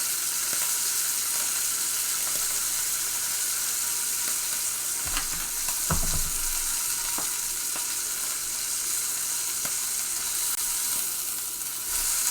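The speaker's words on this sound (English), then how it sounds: "we're really just putting a sear on this and that's it" A large steak searing in a hot pan gives a loud, continuous sizzle with no break, and a few brief crackles and pops rise out of it around the middle.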